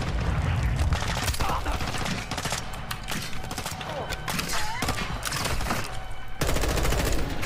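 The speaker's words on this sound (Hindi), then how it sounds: "वो ग्रेनेड डाला उसने" Rapid bursts of gunfire and a booming grenade blast in Call of Duty Modern Warfare II, dense and loud throughout with repeated sharp cracks and rumbling.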